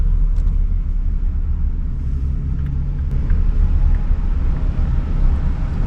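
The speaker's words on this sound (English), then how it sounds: "Just inside the entrance, and I got a traffic jam already." Cars idle and creep in a traffic jam at a snowy Rocky Mountain park entrance, a steady low engine rumble with faint wind, no voices.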